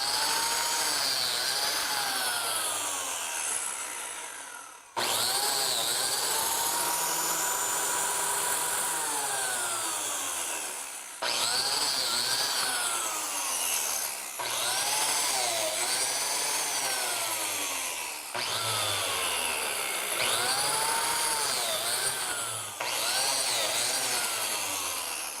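A biscuit joiner cuts slots into wood for a storage tower, a series of loud whining bursts, each rising and then dropping away, separated by short pauses, with no talking.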